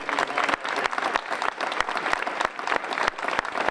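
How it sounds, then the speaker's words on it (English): Applause from an audience honoring state parks department employees at a governor's event at Natural Bridge, Virginia; steady dense clapping from a crowd, fairly loud and continuous throughout. "So let's give a round of applause to all of the DCR employees"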